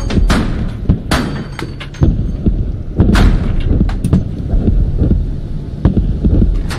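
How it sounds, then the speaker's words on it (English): Tank rumbling toward the player in the military shooter Squad, a heavy low hum and throbbing with scattered thumps and bangs, loud and close, no talking. "I hear a vehicle. Oh! Tank!"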